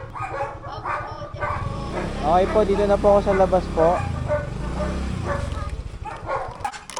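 A dog barks at a house with a white gate while someone talks over it close by, with outdoor street noise running throughout.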